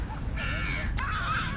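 A crow caws beside a temple pond, two harsh, drawn-out calls with a short gap between them, close and clear over low outdoor background noise.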